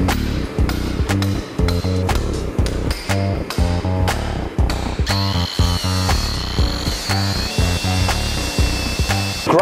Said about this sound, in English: we're gonna lock it in the vise and use the chisel and some tongs to pull them out